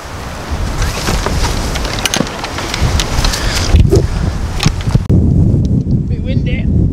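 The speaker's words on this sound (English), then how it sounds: "Bit windy." Strong wind roars across an open golf course at Slaley Hall's Priestman Course, buffeting the microphone in a loud, continuous rumble with gusty bursts, while a person speaks briefly over it.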